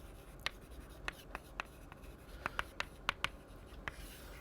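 Chalk taps and short scratches on a lecture-hall board come in scattered, irregular strokes, faint and close against a quiet room.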